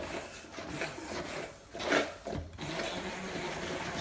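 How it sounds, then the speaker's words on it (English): A stick blender runs on low through broccoli soup, a steady broadband whir with a brief surge partway through, close and continuous with no talk. "I've got my trusty stick blender."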